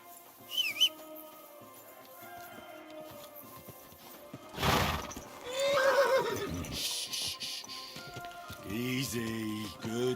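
A horse in the video game Kingdom Come: Deliverance 2 gives whinnies and snorts among clip-clopping hooves, with loud bursts separated by quieter stretches and brief vocal sounds near the end.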